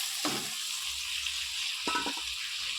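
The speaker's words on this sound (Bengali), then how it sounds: "দিয়ে দিলাম আলুটা নেড়ে চেড়ে একটু কষা কষা করে" Fried potatoes stirred into a cooked, oil-glossed spice masala in a pan, with two short bursts of scraping and sizzle over a steady background hiss.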